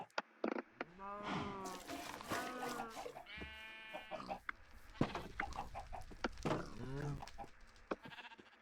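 Video-game chickens clucking and squawking in a farm-building scene, mixed with bleating livestock calls in a busy, layered series of short animal cries, with a person talking over them.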